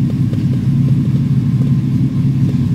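An LPG-fuelled engine idles right after a cold start, making a loud, steady low rumble with a faint regular pulsing throughout and no talk.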